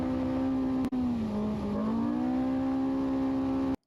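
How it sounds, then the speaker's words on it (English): Race car engine heard through an in-car camera during the V2R off-road race, a loud, steady droning tone that dips slightly in pitch midway, with a brief dropout near the start, before cutting off abruptly at the end. "Car sounds good"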